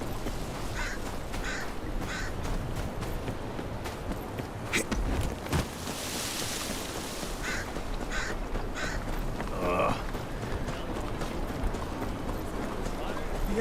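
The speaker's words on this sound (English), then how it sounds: "Damn shitting crows." Crows caw repeatedly in the video game Game of Thrones: Kingsroad, harsh calls recurring under steady ambient game noise with footstep-like sounds and a voice talking.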